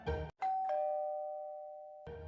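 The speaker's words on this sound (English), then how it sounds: "The doorbell at a time like this?" A doorbell chimes a clear ding-dong, its second tone ringing on and slowly fading, framed by louder background sound before and after.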